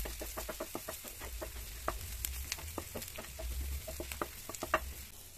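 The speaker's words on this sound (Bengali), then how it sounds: "তারপর ভালো করে নাড়াচাড়া করে এবারে আবার মিশিয়ে নিতে হবে।" Onions being stirred with ground cumin in a frying pan, a soft steady sizzle with many quick scraping and tapping strokes of a spoon against the pan, fairly quiet and close.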